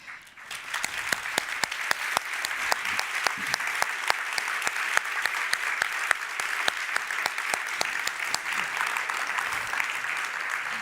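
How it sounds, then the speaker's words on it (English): A conference audience gives sustained applause after a keynote talk, dense rapid clapping from many hands continuing at an even level throughout. "it is a huge round of applause to those people who work in that way"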